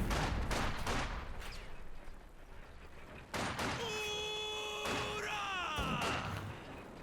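Gunfire and a ZiS artillery barrage crash in a Company of Heroes 2 match, with repeated cracks and thumps at first, then heavy hits and whistling, sliding tones as shells come in.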